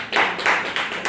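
A small audience at a French-language discussion session at Alliance Française in Lagos claps for students called up front, a short burst of close, uneven handclaps rising and falling in a few quick waves.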